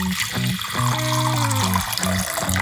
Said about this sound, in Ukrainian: беремо каструлю, наливаємо воду